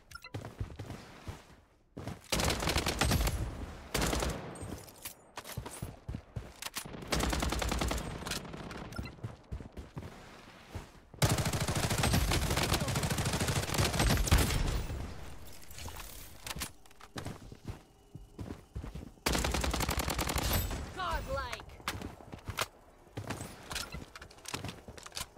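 Rapid bursts of gunfire crackle back and forth in the game Blood Strike, with heavy automatic volleys, pauses, and renewed firing over a low rumble.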